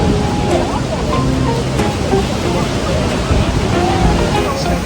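Niagara Falls roaring as a steady, loud wash of rushing water close by, a broad continuous rumble with faint crowd murmur mixed in.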